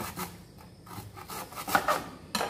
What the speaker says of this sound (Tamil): இந்த மாதிரி கட் பண்ணும்போது இந்த நாரை நம்ம இப்படி எடுத்துட்டனாலே இதில் நாரே இருக்காது.